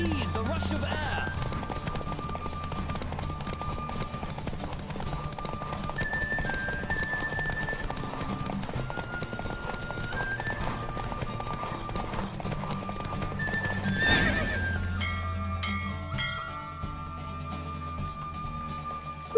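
Horse hooves clip-clop steadily through a galloping race in The Witcher video game, with music and voiced dialogue running over it and a short rise of activity near the end.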